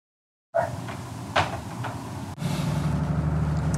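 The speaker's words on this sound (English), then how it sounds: "So she's banging on the door." A door is banged on with a few sharp knocks and thuds over a steady indoor background hum, close and fairly loud, with no talking.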